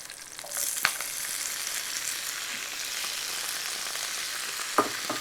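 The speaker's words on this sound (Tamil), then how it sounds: "இதுக்கப்புறம் அந்த வேக வச்ச சவ் சவ்வை இதில் போடுறேன்" Boiled chow chow (chayote) hits hot oil in a pan and sizzles steadily, with a couple of brief clinks of utensils against the pan over the constant frying hiss.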